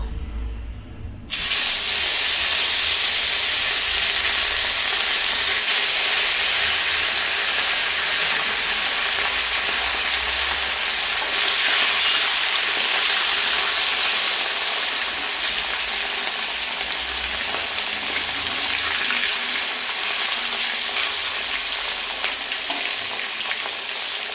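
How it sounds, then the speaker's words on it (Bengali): Rohu fish pieces frying in hot oil in a home kitchen, a loud steady sizzle and hiss that starts abruptly and runs continuously, crackling and spitting throughout with no talk. "তো এই দেখো লাল করে ভেজে তুলে নিচ্ছি, আর এই যে তেলে বাকি মাছগুলো ভেজে নেব"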